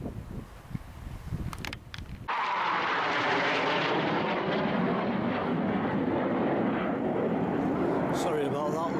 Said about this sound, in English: Sorry about that low-flying aircraft.